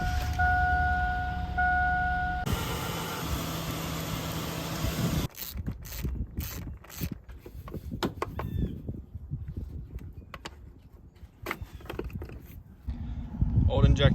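A pickup truck engine idles with a steady drone for about five seconds before cutting out abruptly after its fuel supply is pulled, leaving quieter clicks, rustling and outdoor sounds.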